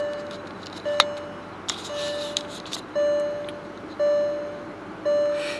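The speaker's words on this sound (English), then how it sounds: "it's beeping at me to put my seatbelt on" A 2005 Volkswagen Phaeton's seatbelt warning chime sounds repeatedly, a steady single-tone beep every second or so, close and clear inside a quiet cabin.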